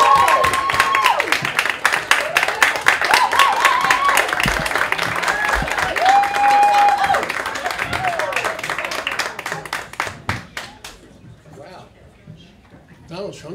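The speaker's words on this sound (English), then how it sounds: "Trump doesn't get applause like that" A cabaret audience at Don't Tell Mama gives loud, sustained applause with scattered cheers, and it tapers off toward the end as a voice begins to speak.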